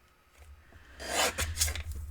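Thin craft foil being trimmed, a short rasping, scraping cut that swells after a quiet start and continues in uneven strokes, close and fairly soft with no talking.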